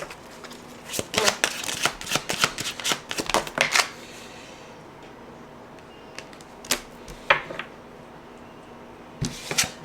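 Tarot cards are shuffled in a quick, close run of riffling bursts over roughly four seconds, followed by a few shorter isolated shuffles and a brief final burst.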